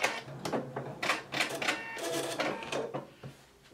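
A Husqvarna Viking Epic 980Q sewing machine trims its thread with a series of close, sharp mechanical clicks and whirring pulses, ending in quieter ticks.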